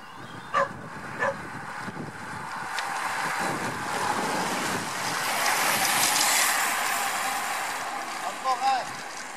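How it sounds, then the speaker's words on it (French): Wind rushes past the microphone during a laps race at Saint-Léon, swelling into a loud sustained roar mid-clip and easing off, with a few brief knocks at the edges. "Et du vent ici en haut, mais ici, dans le dos."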